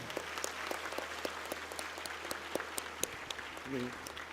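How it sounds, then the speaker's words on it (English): Conference audience at a higher education conclave gives a faint, sparse round of applause: scattered individual claps over a quiet room hum, with a brief voice near the end. "let us give a big round of applause for both of them"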